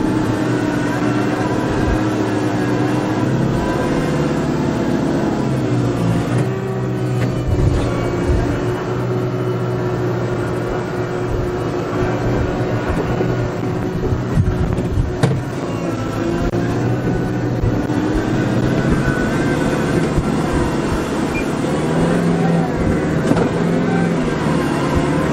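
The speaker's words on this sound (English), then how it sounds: "This is impressive on the amount of snow this small tractor can push." A small tractor pushes snow along a driveway in push mode, its engine droning loud and steady throughout, with occasional clunks and surges as the load shifts.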